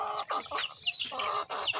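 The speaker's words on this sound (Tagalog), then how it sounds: "Meron din pala tayong tandang dito mga birds." Clucking from a rooster kept as a breeding bird among backyard poultry, a series of close, loud clucks and short calls in quick succession with no talk.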